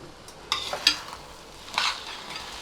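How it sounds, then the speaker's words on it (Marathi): Fried fruits being stirred into coconut-milk rice in a pot, heard as a few soft scraping stirs, three sharper spoon strokes standing out against a quiet background. "ते पण व्यवस्थित मिक्स करून घेऊया आपण"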